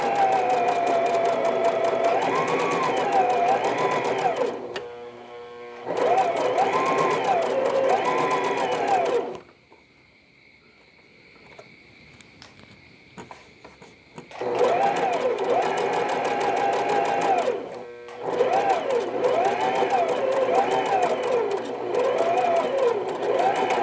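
Sewing machine stitching a smocking frock, its motor running in steady sustained bursts with rhythmic whirring, pausing briefly around the middle before resuming, close and fairly loud.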